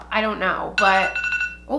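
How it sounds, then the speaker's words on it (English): A phone alarm goes off, a bright repeating electronic tone that keeps sounding beneath a person talking close by. "that's my alarm that I need to go pick bro up in 5 minutes"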